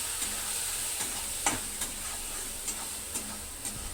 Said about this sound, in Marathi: आता हे सर्व परतून घेते मी